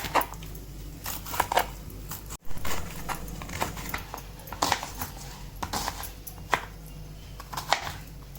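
Fresh coconut flesh being chopped finely with a knife on a board for a village-style crab curry, several sharp taps spaced irregularly among quieter kitchen clatter, fairly close.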